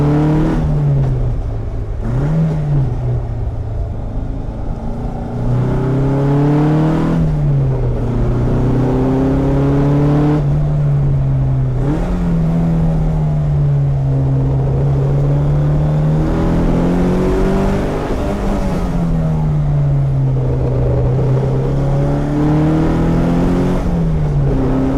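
Worn rear axle with heavy play on an Alfa Romeo 105, knocking and clunking under steady engine drone while driving, with gear and rev changes rising and falling throughout; no talking.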